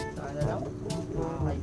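Pigeons in a loft in Binalonan, Pangasinan give soft, low cooing calls, repeated a few times at close range, while a person talks quietly over them.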